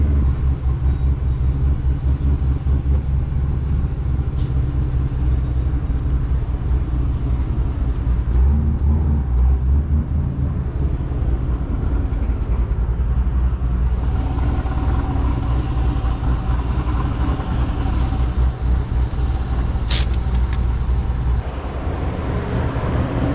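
A cammed C5 Corvette with a six-speed manual rumbles loudly and continuously from inside the cabin while driving, its deep engine drone shifting in pitch over twenty-odd seconds with no talking.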